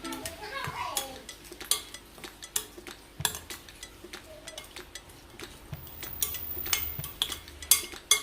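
Shrimp are stirred with green seasoning in a bowl for Jamaican curry shrimp, a spoon clinking and scraping against the dish in quick, irregular bursts, close by, with faint voices in the background.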